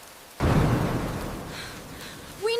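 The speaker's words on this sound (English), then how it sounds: "That thunder is loud. It's getting louder." A sudden loud rumble of thunder bursts in and rolls on for about two seconds during a jungle rainstorm, heavy and close, fading slightly before a brief higher sound at the end.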